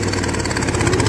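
A Fordson Major E27N tractor engine runs steadily in second gear, a close, even mid-low thrumming chug with a faint whine over it and no talking.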